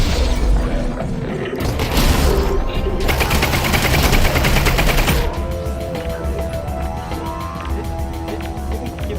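Rapid automatic gunfire from a video game, loud bursts of rattling shots with booms and shattering, easing off in the latter part into lighter mechanical clatter.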